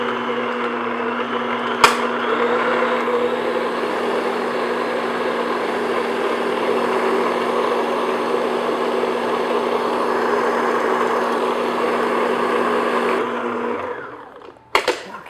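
An electric mixer beats eggs into Hostess-style cupcake batter, a steady whirring motor hum running for about thirteen seconds before winding down, with a sharp knock near the start and a couple of clunks at the end.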